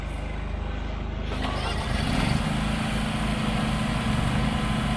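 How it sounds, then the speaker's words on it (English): A lawn mower runs at a job site in a steady, loud engine drone that deepens and grows rougher partway through, with faint background voices. "these boys go down there with a mower and a weed whacker, and they make it happen"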